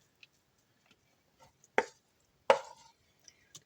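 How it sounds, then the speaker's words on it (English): A knife cuts food in half on a cutting board in a home kitchen, giving two sharp, distinct thuds about a second apart against quiet background with faint small clicks. "Cut that in half."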